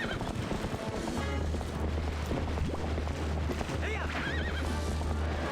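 A horse in the video game The Legend of Zelda: Twilight Princess HD neighs and whinnies while galloping hooves pound beneath a busy game soundtrack and effects, with a wavering whinny standing out near the end.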